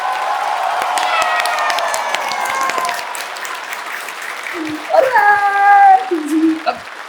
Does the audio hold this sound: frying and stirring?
no